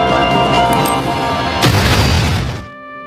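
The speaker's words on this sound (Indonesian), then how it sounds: "akhirnya mereka menggunakan peledak Malibu milik Lupin untuk menghancurkan pintunya" A film-effect explosion from Lupin's explosives blasting open a door: a loud, dense roaring boom that swells with a sharp secondary burst midway, then cuts off into a faint ringing tail.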